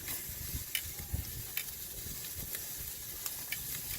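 Beef rib steaks sizzle on a very hot grill, a steady close hiss broken by scattered sharp pops and crackles of spitting fat.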